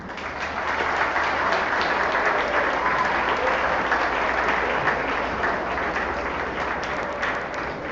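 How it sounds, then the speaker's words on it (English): Graduates at the Cape Henry Collegiate 2016 graduation ceremony applaud their families, a dense, loud and steady wave of clapping from a large crowd that holds for the full span. "please applaud those who helped get you here today"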